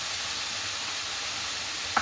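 Potato pieces fry in a pan with a steady, soft sizzle and hiss, low and continuous, plus one brief clink near the end.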